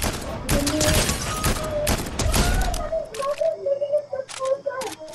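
Video game gunfire on a hillside, rapid bursts of shots crackling under excited talk from a man and a child, with scattered single shots trailing off toward the end.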